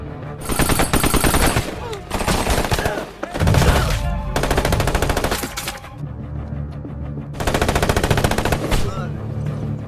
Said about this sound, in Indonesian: salah satu polisi korup ada yang menembak Jack sehingga terjadilah baku tembak